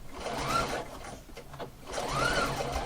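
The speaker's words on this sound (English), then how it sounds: "I'm going to keep on sewing until it gets to the end" A sewing machine stitches piping onto fabric in two close, steady whirring runs, separated by a short slower pause in the middle.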